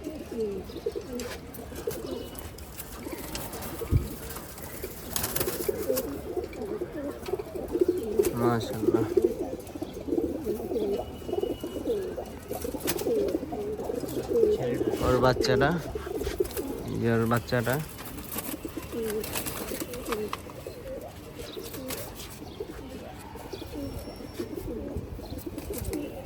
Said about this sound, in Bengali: মাদি কবুতর এটা